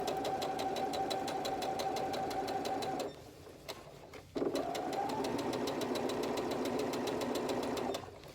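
A sewing machine runs close up in a steady rapid stitching whir while sewing a seam line on a romper, pausing briefly midway before starting again and running on.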